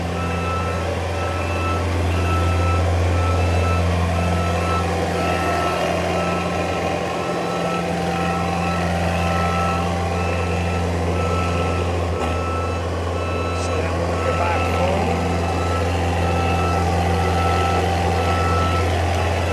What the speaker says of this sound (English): So here, guys, is high range, full throttle.